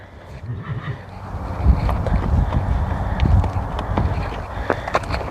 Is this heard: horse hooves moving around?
yes